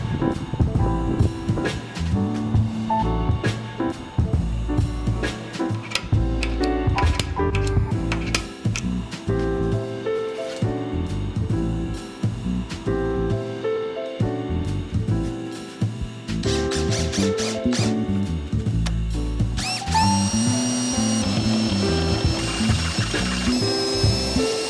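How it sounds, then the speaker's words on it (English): A power drill whines and grinds through a Land Rover Discovery's steel bumper in bursts, the motor pitch rising and dropping as it bites, with brief pauses between runs. "I'm drilling new holes."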